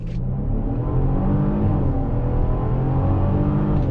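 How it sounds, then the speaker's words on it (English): A 2022 Genesis GV70 Sport all-wheel-drive SUV pulls hard under throttle, its engine a loud, steady close-up drone that rises smoothly through the run with no pauses and no talking. "We need to do a little on throttle with that all-wheel drive. On throttle, here we go."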